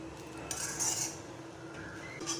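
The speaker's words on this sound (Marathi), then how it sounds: "कोथिंबीर थोडीशी मिक्स करून घेऊया" Coriander being mixed into onion poha in a pan, with close metallic scrapes and clinks of a spoon against the pan over a low steady background.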